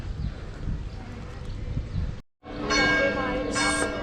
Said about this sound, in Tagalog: bumagting na ang kampana